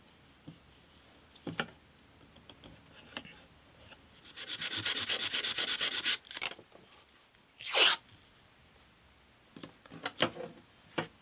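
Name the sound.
sanding super glue flat on acoustic guitar fretboard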